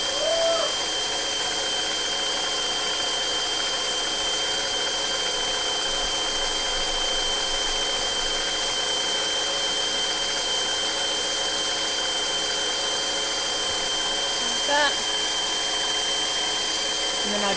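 A machine with rollers feeds a sheet of sourdough cracker dough through, giving a steady close mechanical whir and hum throughout with a brief clatter near the end.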